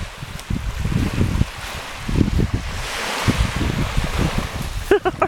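Atlantic Ocean waves wash and break on a beach, with wind buffeting the microphone and a steady surf roar; a voice talks intermittently over the waves near the end.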